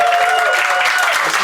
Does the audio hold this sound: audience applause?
yes